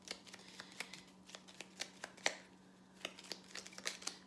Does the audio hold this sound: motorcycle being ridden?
no